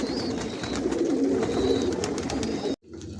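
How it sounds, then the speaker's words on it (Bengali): Racer pigeons coo in low, rolling murmurs close by, continuous and fairly loud, before the sound cuts off abruptly near the end. "আর অনেক বেবি দেখাবো, কবুতর দেখাবো আপনাদেরকে।"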